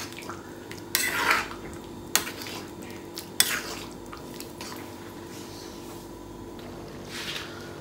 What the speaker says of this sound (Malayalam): എല്ലാം കൂടി മിക്സ് ചെയ്ത് ഉപ്പ് നോക്കിയിട്ട് ഉപ്പില്ലെങ്കിൽ ചേർക്കുക